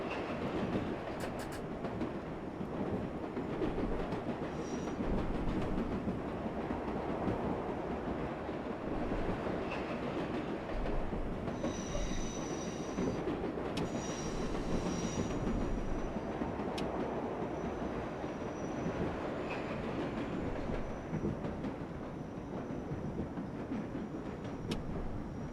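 Simulated subway train running in World of Subways 4, the number 7 local, a steady rumbling rail drone with clattering wheels and occasional brief whines, continuous throughout.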